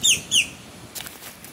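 A pet bird gives two sharp, bright chirps close by, followed by a soft flutter of flapping wings.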